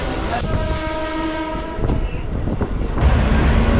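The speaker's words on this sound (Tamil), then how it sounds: "இங்கே பெரம்பூரில் நான் ட்ரெயின் ஏறிட்டேன் திருவள்ளூர் வண்டி தான் வந்தது" Suburban train bound for Tiruvallur heard from on board after boarding at Perambur, with a steady rumble and clatter of the carriages and a horn-like tonal blast early on, loud and close.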